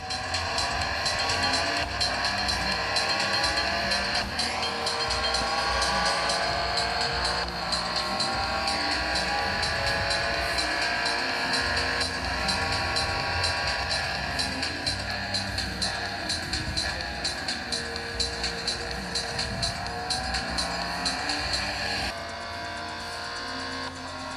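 Continuous engine roar and gear-shifting whine from a car in the Need for Speed No Limits mobile racing game, loud and sustained with rising revs, with no talking.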